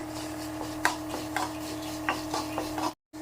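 Something roasting in a kadai while being stirred, with a soft continuous scraping and several spaced clinks of a spoon against the pan, close and fairly quiet, ending in a brief cut to silence.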